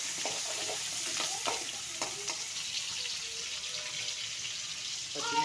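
Chopped onion, tomato and green chillies frying in a pan for upma made with idli, a broad continuous sizzle with scattered clicks and scrapes of stirring, moderately loud and close.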